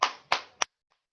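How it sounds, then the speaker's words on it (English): Students in a chemistry class give three sharp claps, evenly spaced and close by, followed by a faint fourth tap and then silence. "Clap for it."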